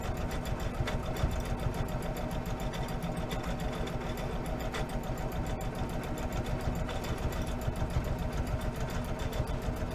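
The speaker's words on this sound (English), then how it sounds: "And I'm just going to do a little back stitch. I'm doing a fairly close stitch." A sewing machine runs in a fast, steady rhythmic chatter while back-stitching close stitches through fabric for a bath mitt, close and continuous with no talk.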